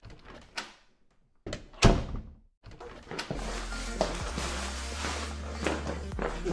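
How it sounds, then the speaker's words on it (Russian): Front door opened for a courier: a few knocks and thuds, a latch clack and the door swinging, then a steady low hum of outside noise and movement in a home setting. "Пойду открою дверь курьера."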